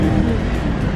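A BMW 650i V8 warms up at idle, a loud, steady close-up engine rumble with no breaks.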